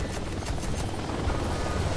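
Helicopter in the first-person shooter game Warface, a continuous rumbling rotor drone with a rapid low thudding pulse, steady and moderately loud with no talk over it.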